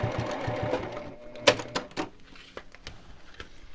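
A sewing machine top stitches glitter vinyl on a project bag in short bursts of rapid close mechanical clatter. Sharper clicks and pauses break up the stitching, which is fairly faint overall. No voices.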